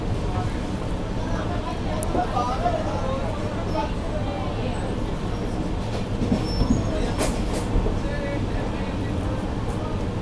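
The Rajdhani Express runs through Dholpur Junction without stopping, heard from inside a first AC coach as a steady rumble of wheels and rail noise with faint squeals and clicks.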